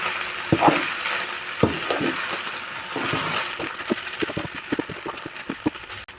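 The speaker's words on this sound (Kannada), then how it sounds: "ಈಗ ನಾ ಒಗ್ಗರಣೆಗೆ ಆಯಿಲ್ ಹಾಕ್ತೀನಿ." Hot oil frying for tempering barley khichdi, a steady sizzle with scattered sharp pops and crackles, close and moderately loud, with no talking.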